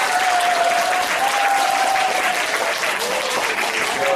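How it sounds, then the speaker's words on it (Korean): High school students at a lecture give a professor a big welcoming round of applause, a loud, dense, continuous wash of clapping that holds steady throughout. "교수님을 큰 박수로 환영드립니다."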